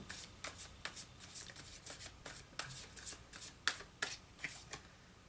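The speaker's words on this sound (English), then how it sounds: "I'm going to pull another card before I clarify this." Tarot cards, a Tarot Royale deck, shuffled and drawn by hand, with a steady run of soft, quick papery riffles and flicks and a few sharper snaps near the end, close and quiet, with no talking.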